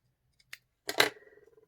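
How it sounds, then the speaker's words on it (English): Scissors cut a strip of tape in half with a single crisp snip, close and clear, after a faint click in otherwise near silence. "like a strip of tape. Cut in half"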